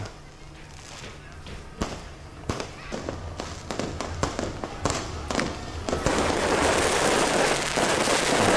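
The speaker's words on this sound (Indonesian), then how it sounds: "kembang api diiringi suara sambut trompet pergantian tahun baru 2025" New Year 2025 fireworks at Bundaran HI, Jakarta, crack and thump in scattered bursts, growing into a dense, continuous crackling barrage that rolls on near and loud.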